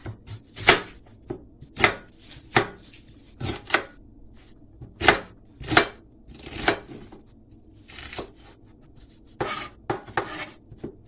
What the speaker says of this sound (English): the knife here is very sharp, so apply some carefulness while slicing your onions